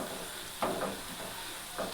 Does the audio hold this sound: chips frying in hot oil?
yes